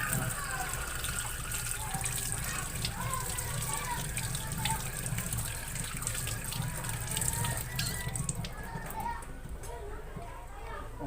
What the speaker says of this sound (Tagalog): habang tinatapat sa tubig kinakaskas natin